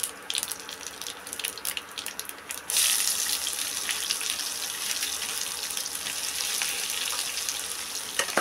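Two chopped medium onions dropped into a hot pan for a brinjal yogurt chutney: a quieter patchy crackle first, then a sudden louder rush of steady sizzling that carries on densely to the end, with no voices.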